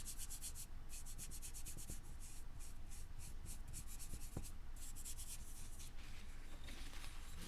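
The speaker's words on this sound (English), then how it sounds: "Rub the piece just like that." A ceramic piece painted with acrylics being rubbed by hand to build a faux bronze finish, giving a steady, close, dry scrubbing texture with short rhythmic strokes and no talking.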